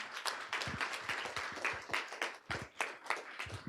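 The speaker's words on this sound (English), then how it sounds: "Let's give them a round of applause." Audience applause at a school board meeting, a fairly quiet room of scattered clapping that keeps up steadily throughout with no talking.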